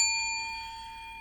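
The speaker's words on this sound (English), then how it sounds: "make sure that you ring that little bell" A single bright notification bell chime, a clean ding with ringing overtones that slowly fades, heard alone with no talking.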